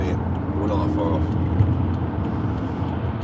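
Steady road traffic rumble heard from inside a car crawling through congestion, a constant low drone throughout with faint voices and music-like tones in the background.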